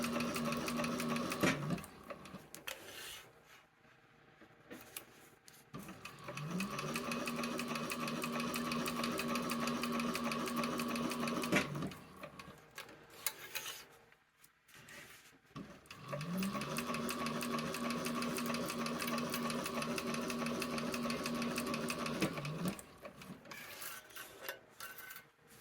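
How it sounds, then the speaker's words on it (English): A sewing machine runs in long steady bursts of rapid stitching with a humming motor, stopping and restarting between runs over a quiet background. "sewing machine sounds that is like ASMR to my heart"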